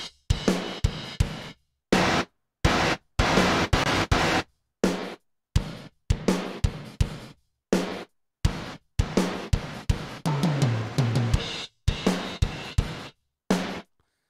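A drum groove plays through a gate triggered by the individual drums, giving punchy hits that cut off abruptly into silence. The sharp, separated bursts fall in an uneven rhythm and no voice is heard.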